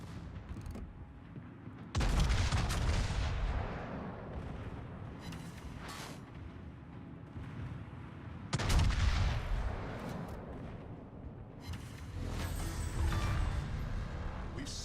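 Heavy naval guns fire in the World of Warships battle game, with two big booming salvos near 2 and 8.5 seconds and rumbling explosions and battle noise continuing loudly throughout.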